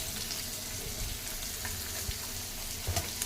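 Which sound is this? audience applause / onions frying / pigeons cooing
onions frying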